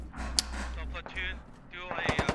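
Gunfire in the Squad video game, a quick burst of sharp sharp cracks with a rapid rattling volley near the end, under a voice talking.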